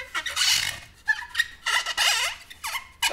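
A person vocally imitates a creaking door as a homemade film sound effect, producing a series of loud, squeaky, drawn-out creaks in several bursts.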